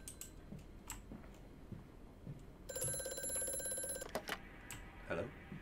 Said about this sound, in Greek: χτυπάει το τηλέφωνο